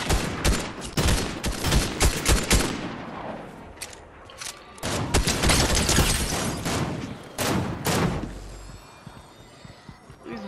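Bursts of gunfire in a video game come in rapid clusters of loud, close shots, with pauses between volleys and a final heavy boom.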